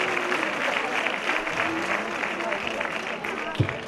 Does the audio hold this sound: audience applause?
yes